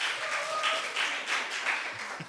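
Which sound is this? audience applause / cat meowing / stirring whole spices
audience applause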